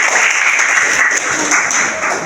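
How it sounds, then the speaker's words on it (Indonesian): Applause from a classroom group: a steady, dense patter of many hands clapping together for a couple of seconds, close and fairly loud, with no talk. "Kita beri aplaus untuk kelompok."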